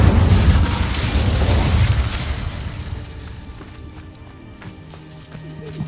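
A loud fiery whoosh and burst as the Incendio fire spell is cast in Hogwarts Legacy, opening forcefully and then tailing off into a quieter rumble with faint battle noises.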